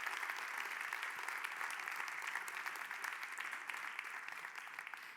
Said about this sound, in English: Don't stop with this applause